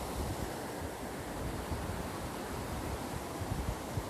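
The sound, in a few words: wind on a Florida beach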